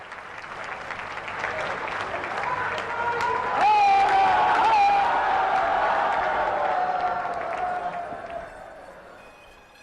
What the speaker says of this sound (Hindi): आप सब अपनी भावनाओं के पुष्प जोरदार तालियों के माध्यम से मंच तक पहुंचाएंगे।